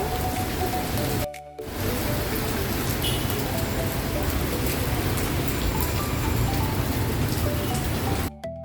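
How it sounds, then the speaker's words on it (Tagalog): Heavy rain pours down steadily in a dense, continuous hiss that drops out for a brief moment near the start, with no voices. "Lumakas ang ulan."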